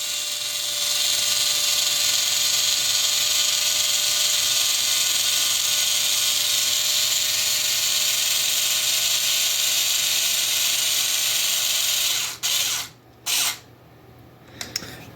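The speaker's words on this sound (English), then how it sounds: "I'm going to be using this electric screwdriver because it speeds things up" An electric screwdriver drives a 20 mm bolt into a Nerf blaster with a steady, loud whirring drone that runs for about twelve seconds, then cuts off, followed by two brief bursts and a small click.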